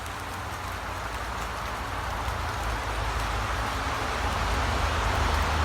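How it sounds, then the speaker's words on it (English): Heavy rain pours down steadily in a constant dense hiss during a hike, with a deep low rumble underneath and the downpour holding at full strength throughout. "Turns out that waterfall was a deluge of rain."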